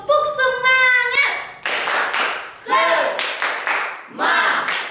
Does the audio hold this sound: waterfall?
no